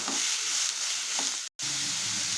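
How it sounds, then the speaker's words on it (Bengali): Chopped onion, tomato, green chili and peas fry in a pan with a steady, close hiss, broken by a couple of soft stirring scrapes and a brief dropout near the end. "এর মধ্যে দিয়ে দিচ্ছি পেঁয়াজ কুচি টমেটো কুচি কাঁচা লঙ্কা কুচি আর মটরশুঁটি এগুলোকে দিয়ে আবার এক থেকে দু মিনিট মতো এইভাবে একটু ভেজে নেব"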